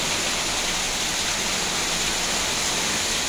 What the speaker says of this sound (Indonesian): Hujan angin.